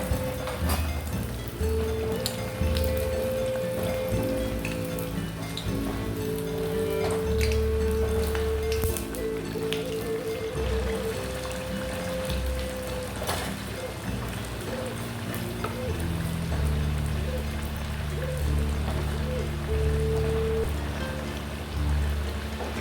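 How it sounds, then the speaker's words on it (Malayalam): Rolled pathiri flatbread fries in hot oil, giving a steady, rain-like crackle of bubbling oil throughout. Soft background voices and a low humming tone sit beneath the frying. "എണ്ണ ചൂടായിട്ടുണ്ട്. നമുക്ക് അതിലേക്ക് നമ്മുടെ പത്തിരി പരത്തി വെച്ചത് ഇട്ട് കൊടുക്കാം."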